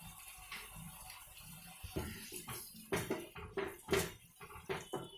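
Water poured from a tumbler into a pan of salted prawns being cooked for prawn fry, heard as a run of uneven splashing bursts and gurgles, close and fairly quiet, with faint clinks of the pan.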